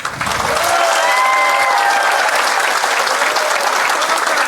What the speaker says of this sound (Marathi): बरोबर आहेत तर एकदा टाळ्या वाजून हो म्हणा